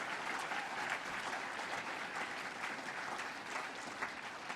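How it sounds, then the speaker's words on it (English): At a chamber of commerce awards event, an audience gives award recipients a sustained round of applause, a steady, moderately distant mass of clapping with no talk over it. "Let's give all of our award recipients another great big round of applause."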